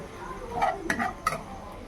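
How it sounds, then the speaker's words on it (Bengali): A spatula clinks and scrapes in a pan as capsicum is stirred for homemade chilli chicken, with a few quick metallic taps close by and faint room noise underneath. "এবার হালকা করে নেড়ে চেড়ে ক্যাপসিকামগুলো দিয়ে দেবো।"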